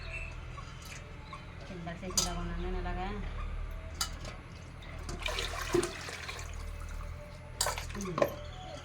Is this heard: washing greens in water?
yes